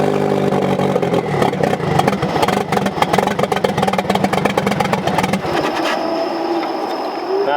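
A Nissan 180SX with a suspected mass airflow sensor fault revs hard and high in a loud, dense, rough roar that holds for several seconds, then drops away abruptly to a quieter idle.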